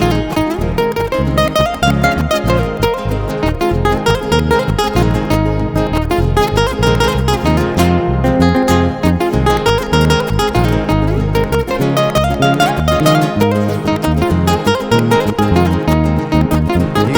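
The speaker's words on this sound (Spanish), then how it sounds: "Y que suene esa guitarrita" Andean guitar music, a steady strummed rhythm with plucked melody, loud and continuous throughout, likely with other instruments joining.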